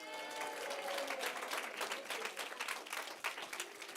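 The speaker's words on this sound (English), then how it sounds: "let's give them an applause" Sustained applause from a school assembly audience at an end-of-year gathering, many hands clapping in a continuous, fairly loud patter with a few sharper claps standing out.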